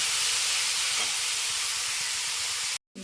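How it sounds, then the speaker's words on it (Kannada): Bitter gourd pieces fry in hot oil, giving a continuous, even sizzling hiss close up that runs unchanged until it cuts off abruptly near the end. "ಈಗ ಚೆನ್ನಾಗಿ ಸ್ವಲ್ಪ ಒಂದು 5 ನಿಮಿಷ ಫ್ರೈ ಮಾಡ್ಕೊಳ್ಳೋಣ"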